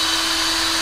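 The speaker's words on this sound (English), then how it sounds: "Get yourself a drill and you're just gonna drill it." A power drill bores out rivets on a Briggs snow blower's pull-cord housing, a loud close steady whine held throughout with no talking.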